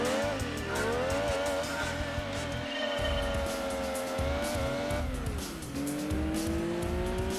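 A Suzuki Alto races in Gran Turismo 2, its engine droning loud and steady, with the pitch climbing through each gear and dropping at the shifts, and a little tire squeal underneath.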